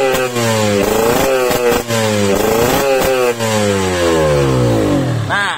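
Motorcycle engine fitted with a PWK 28 carburetor on a wet setting, revved repeatedly in loud rising and falling bursts, rough and continuous, close up with no talking.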